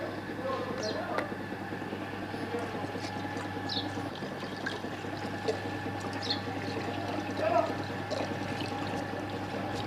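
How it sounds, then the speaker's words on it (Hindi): Milk poured into a pan while making Umm Ali, a steady soft liquid pour under a constant kitchen background hum, close and moderately loud throughout. "दूध डालेंगे।"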